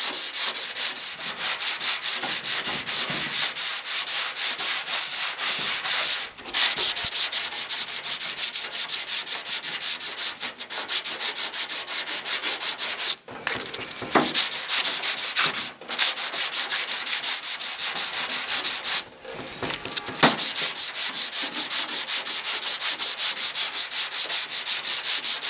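Hand sanding on a 1967 Mustang door skin, steady close rasping strokes in a continuous rhythmic scrubbing that runs throughout with only a few brief pauses.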